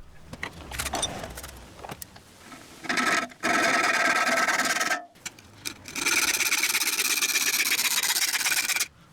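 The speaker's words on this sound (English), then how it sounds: "I use a hacksaw with 32 teeth per inch blade to cut out the fish plates." A hacksaw with a 32 teeth-per-inch blade cuts aluminium fish plates in a garage, making close rasping strokes in two sustained bursts separated by short pauses, with lighter scraping before them.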